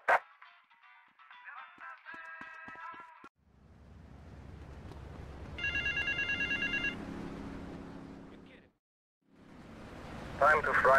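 In the GTA Vice City video game, a payphone at an airport terminal rings in short electronic bursts, with other game sounds, a rising noise swell and a low hum coming and going between the rings.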